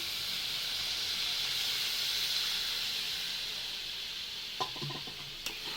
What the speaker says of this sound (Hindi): एबे हमर नड़िया रस पकेबा।